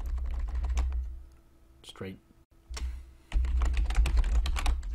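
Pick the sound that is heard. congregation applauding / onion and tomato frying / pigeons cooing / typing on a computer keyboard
typing on a computer keyboard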